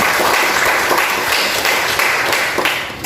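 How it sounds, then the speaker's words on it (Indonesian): Children in a classroom clap together, a dense, steady burst of applause that holds for about three seconds and fades at the end. "tepuk tangan untuk kita semua"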